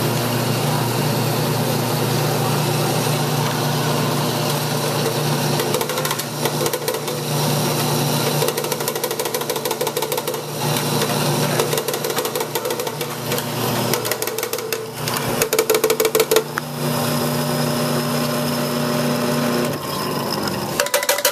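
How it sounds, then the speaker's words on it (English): A café coffee grinder grinds beans in a loud, steady motorized whir with a gritty rasp, holding a constant hum throughout with brief rattling bursts and slight shifts in tone. "That's the grinder we use for grinding."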